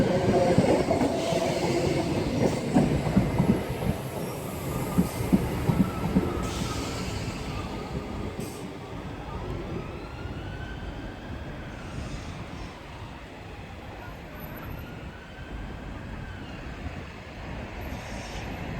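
Class 321 electric train rolling into Colchester station on an empty stock move, a loud rumbling approach with rhythmic wheel clatter and faint squeals that gradually eases and softens as it slows, no talking.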